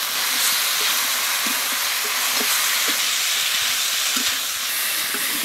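Potatoes and cauliflower fry with spices in a pan, giving a loud, steady hiss and sizzle that runs throughout with small crackles scattered through it.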